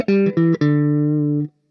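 Electric guitar played through a Fender Supersonic amp model in AmpliTube 5, sounding two short clean chords and then one sustained chord that rings out and stops, loud and alone with no talk.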